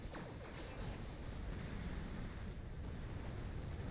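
Torpedoes fire from a starship in Star Trek Online, a dense rumbling wash of low booms and crackling bursts that holds steady and loud for the whole stretch.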